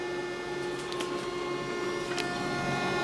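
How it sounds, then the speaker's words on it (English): A Samsung ML1430 compact laser printer runs its self-test, giving a steady, fairly quiet mechanical whir with a constant hum and a couple of brief faint higher rattles, with no talking. "Let's plug it in. Let's see what happens. It's doing a self-test."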